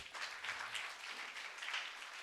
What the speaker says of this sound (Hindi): ताली बजाकर प्रभु को महिमा करें।